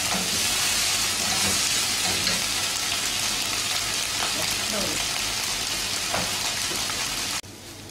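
Soy sauce hits vegetable fried rice in a hot pan, raising a loud, dense, rain-like sizzle that holds steady for several seconds before cutting off abruptly near the end, with faint tossing clatter beneath.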